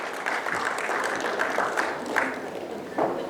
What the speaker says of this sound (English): Can we have a big round of applause for the moderator and all the panelists?